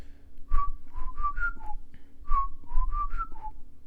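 A person whistles the Fantastic Four movie theme motif, a short rising-and-falling melodic phrase played twice, clear and close with faint background hum.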